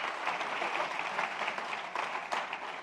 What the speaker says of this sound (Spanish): Denle otro aplauso al Rey